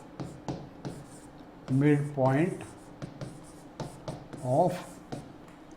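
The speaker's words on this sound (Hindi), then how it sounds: "तो हम लिखते हैं यहाँ पे" Pen scratching across paper in short strokes and taps while working a coordinate geometry problem, close and fairly quiet, with someone speaking Hindi in between.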